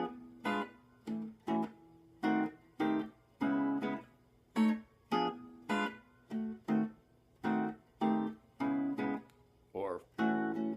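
Diminished chord progression with inversions, roughly a dozen short separate chords struck one after another at an even pace, fairly quiet and close, with no talking.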